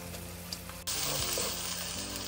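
Chopped onions, two medium ones, frying in a pan for a vegan soya dish, a soft hiss that jumps into a louder, bright steady sizzle partway through, with faint stirring scrapes beneath.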